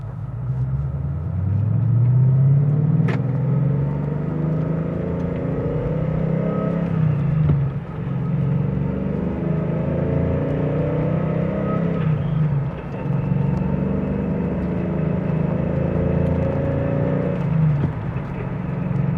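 A 2014 Shelby GT350 engine revs up repeatedly through the gears after the clutch is released, a loud, close rumbling roar that rises in pitch, drops at each shift, then climbs again.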